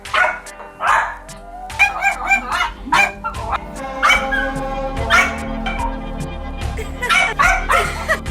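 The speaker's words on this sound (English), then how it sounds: "This dog goes crazy every time animals are shown on the TV." A dog barks excitedly at animals shown on a television: repeated sharp barks and yips at an irregular, frantic pace, close and loud, mixed with honking animal sounds from the TV.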